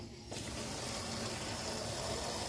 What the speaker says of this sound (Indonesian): kita isi botolnya dengan air sampai ke batas yang sudah diberi tanda di sini